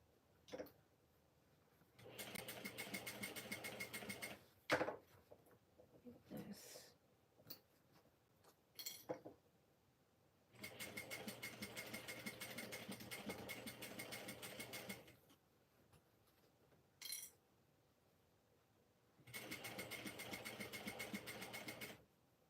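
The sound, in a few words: sewing machine stitching a zipper on a pouch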